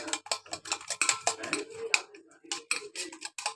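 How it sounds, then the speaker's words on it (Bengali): Rapid, uneven clicking and tapping of eggs being whisked with black salt and pepper in a bowl, close and fairly quiet, with no talk. "ডিমগুলোর কালা নুন আর গোলমরিচের গুঁড়ো দিয়ে ভালো করে ফেটে নিলাম"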